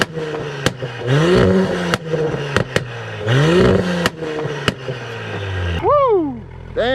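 Tuned street race car with a loud aftermarket exhaust and gunshot anti-lag tune, revving hard several times with sharp cracking pops and bangs between rising engine sweeps, ending in a couple of quick high-pitched blips.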